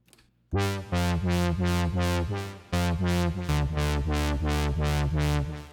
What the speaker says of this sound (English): so what you're hearing here is the LFO